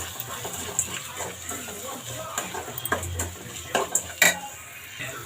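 Spices—garam masala, salt and chili—being stirred into a pan of poppy-seed curry, with scattered metallic spoon-against-pan clinks and scraping strokes, a couple of sharper knocks near the end, faint background voice.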